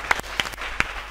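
A few scattered hand claps from the audience at an Indonesian literacy award talk show, three sharp separate claps spread over about a second, fairly quiet against room noise.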